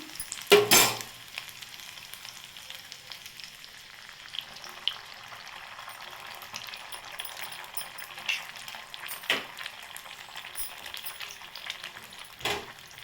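Beaten egg frying in oil, a soft, low sizzle with light crackling, broken by a few sharp utensil knocks at the start, middle and end, close and quiet with no speech.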